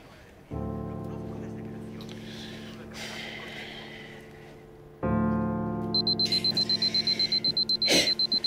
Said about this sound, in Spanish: Siempre pongo doble alarma.